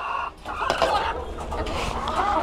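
Chickens on an egg-laying poultry farm cluck and chatter close by in a short, busy burst, with overlapping calls and no clear talk.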